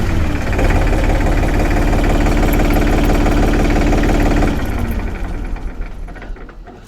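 Powertrac Euro 42 Plus tractor, a 44 hp model, with its diesel engine running steadily and loud up close, a low rhythmic chug that eases off and fades toward the end.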